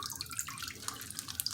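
Tap water running over collard greens in a sink as they are rinsed, a quiet, uneven trickle with small splashes and drips, alone without talk.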